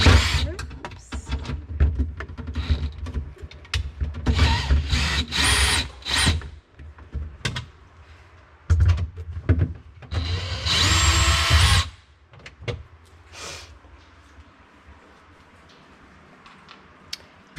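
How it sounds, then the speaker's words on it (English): A power driver with a 1/4 inch bit backs screws out of a GE refrigerator panel. Loud, close whirring bursts of varying length alternate with pauses and faint handling clicks. "this is a 1/4 inch lug, and we're going to go ahead and take these 2 screws out"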